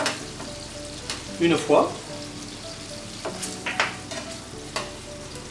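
Veal sweetbreads and shallots cook gently in a pan with salt and pepper, a soft steady sizzle under a few louder stirring and turning knocks, with brief speech in the middle.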